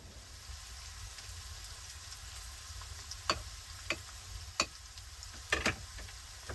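Mushrooms and onion sizzle in a frying pan with cream poured in, a low steady crackling fry broken by a few sharp clicks and taps of a utensil against the pan.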